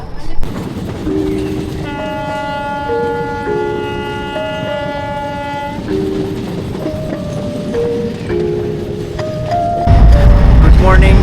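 A long-distance passenger train on a route to Purulia runs with a loud, close rumble while its horn blows in a series of sustained two-tone blasts, a heavier roar rising near the end as voices murmur faintly beneath.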